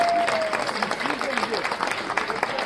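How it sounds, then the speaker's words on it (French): An audience at a Téléthon charity evening claps for Geneviève, scattered applause and crowd murmur under a person talking nearby. "Donc vous pouvez applaudir Geneviève"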